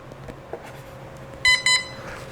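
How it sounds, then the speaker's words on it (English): An RC airplane's electronic speed controller gives two short, bright electronic beeps in quick succession during throttle calibration, heard close over faint background noise. "Hear the 2 beeps, throttle back to 0."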